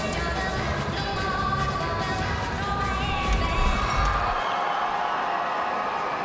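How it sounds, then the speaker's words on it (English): A crowd in an arena at a women's regional competition claps and cheers for the female athletes, a broad, busy roar that drops away abruptly near the end. "So please give them a round of applause."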